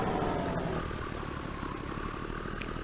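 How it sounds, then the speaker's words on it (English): Engine brake on a tractor in Farming Simulator 19, hauling water on the Seneca County map: a steady, loud droning roar with a faint rising and falling whine over it, continuous and alone. "Trying not to talk through the engine brake here, it's a little loud"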